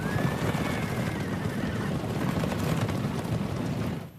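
Horses whinny over a dense, roaring battle-style bed of noise, with one long neigh early on, the whole sound effect loud and continuous like a cavalry charge.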